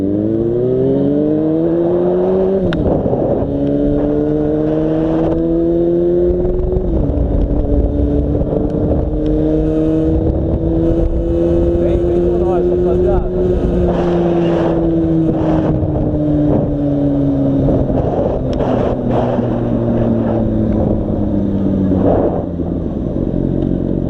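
A Yamaha Fazer FZ6 motorcycle engine rumbles loud and close, running hot in city traffic, its pitch rising and falling through several revs and gear changes over a continuous low growl, with no talking.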